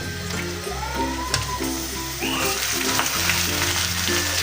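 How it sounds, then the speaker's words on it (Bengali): Meat frying in a pan with already-fried onions at an outdoor picnic cookout, a steady close sizzle with a low hiss throughout, stirring scrapes and a few clinks breaking through, no talk. "এখন মাংসটাও ভেজে নিব।"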